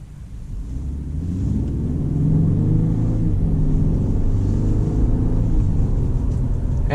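A Mercedes-Benz E350 with an automatic transmission is driven while its engine gives a steady low rumble, building over the first couple of seconds and then holding even, with no talking.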